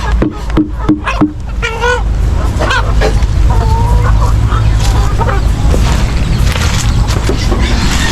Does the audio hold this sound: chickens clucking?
yes